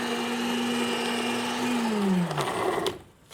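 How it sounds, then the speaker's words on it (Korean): A powerful blender grinder on a live morning television show runs with a steady motor whine, then slows, its pitch sliding downward before it cuts off near the end. Nobody speaks over it. "그 힘 센 믹서기로 필요해요."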